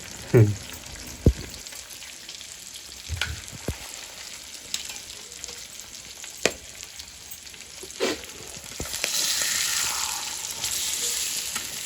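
Eggs for egg bhurji fry in a pan with a soft, steady sizzle, broken by a few sharp clinks and knocks of a utensil, and the crackle grows slightly louder toward the end.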